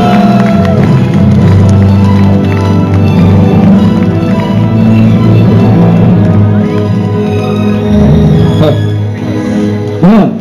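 Audience cheering and applause for a band on stage at a 2013 festival event, a steady loud crowd roar with clapping layered over ongoing music, continuing throughout and swelling near the end.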